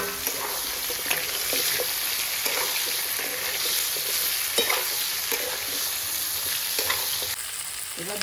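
Bottle gourd pieces tossed into hot oil with two dried red chillies, frying and sizzling steadily with occasional stirring scrapes, close and moderately loud with no talking.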